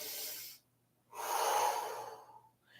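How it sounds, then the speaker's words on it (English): Breathing during a core exercise workout: one long, close exhale, a brief silence, then a second breath that swells and fades. Both are soft and airy, with no voice. "Exhale."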